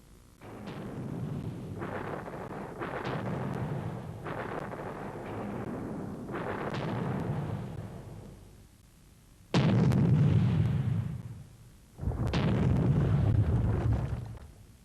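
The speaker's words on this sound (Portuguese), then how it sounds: "a potência das armas de cerco e a precisão destruidora da artilharia" Artillery and heavy siege cannon firing, a series of deep booming blasts, each followed by a rumbling roll. The later shots are louder and closer, with no talk.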